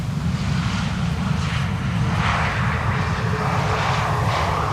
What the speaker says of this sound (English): The retro Transavia has landed here.